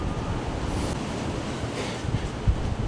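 Strong wind at the top of a tall tower overlooking the ocean roars steadily and buffets the microphone in loud, unbroken rushes, with a few heavier gusts near the end and no voices.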